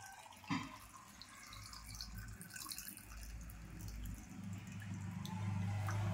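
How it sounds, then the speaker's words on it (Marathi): Water is poured into a jar of salted karonda berries until they are covered, a soft, continuous trickling and gurgling that builds gradually after an early knock. "बुडेपर्यंत पाणी टाकायचं."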